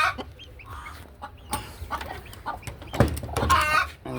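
Newly hatched chicks and hens at a home poultry set-up cluck and peep in scattered, overlapping calls, fairly close, with busier calling toward the end.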